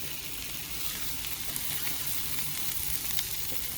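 A burger patty pressed flat on a hot surface in an RV kitchen, giving a steady, close, even sizzle of frying with no talking.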